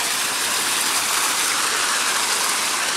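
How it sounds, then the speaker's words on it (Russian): A small waterfall in Strukovsky Park gives a steady, dense white rush of falling water, loud and close, with no talk over it. "Вон, смотри, какой водопад красивый."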